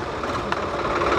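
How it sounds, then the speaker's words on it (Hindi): A tractor engine runs steadily in a farm field right after starting, a continuous close, rough rumble with no pauses. "डाले पे ट्रैक्टर स्टार्ट हो चुका है"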